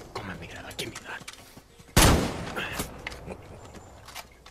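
A single loud gunshot from Far Cry 6 on a tobacco field, sharp and close with a short decay, amid talk before and after.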